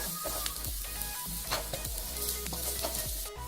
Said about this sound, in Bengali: একটু কষে নেব এবং কসুরি মেথি কষার পর একটা সুন্দর গন্ধ বেরোয়